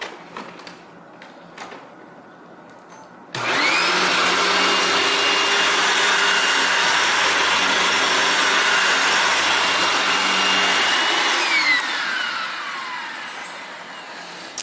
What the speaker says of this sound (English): I want to just vacuum with this with pet hair so you can see that it does clean.